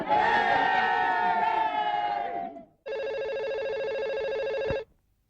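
A telephone rings in two long bursts, a bright buzzing trill cut by a short pause, loud and close, with no talking.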